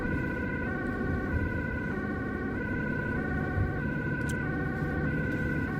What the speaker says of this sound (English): Really loud and effective siren cadence on this vehicle